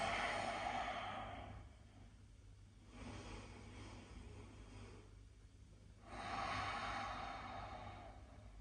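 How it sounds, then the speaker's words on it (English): Slow, steady breaths in and out through the nose during a yoga class, close and soft, in long swells of inhale and exhale. "Breathing in and out through the nose."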